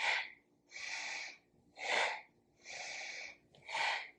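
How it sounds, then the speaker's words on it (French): Rapid Kundalini-style yoga breathing: five forceful breaths alternating quick inhales and exhales, each about half a second to a second long, close and clear with no talk. "Continuez de respirer plus rapidement que ce que vous faites d'habitude en yoga."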